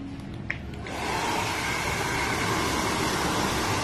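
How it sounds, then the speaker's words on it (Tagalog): Hair dryer blowing air through a salon client's curly hair, switching on after a brief quiet moment and then running as a loud, steady whooshing roar close by. "pinatutuyo lang ng hangin ang buhok ng client"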